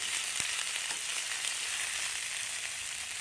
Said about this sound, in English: Sizzle here is more important.